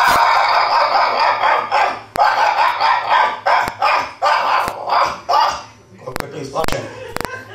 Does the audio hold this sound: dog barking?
yes